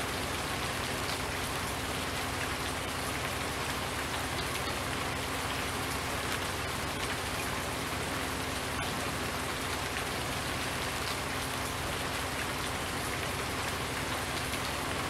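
Rainfall in the Farming Simulator 19 game, a dense, even patter of drops on surfaces that stays constant and moderately loud throughout, with no voices.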